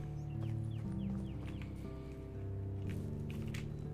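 Chickens clucking around a hen house in the video game Medieval Dynasty, short chirpy clucks scattered over a steady tonal background of game music and ambience.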